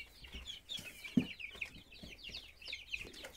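Chickens kept together with goats cluck nearby in short, irregular bursts, with a few louder calls standing out over a quiet farmyard background.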